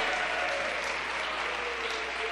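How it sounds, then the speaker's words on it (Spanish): Women at a leadership forum in Mexico clap in a thick, continuous burst of applause, loud and even throughout, with no clear speech above it. "Un aplauso, chicas, no se apaguen."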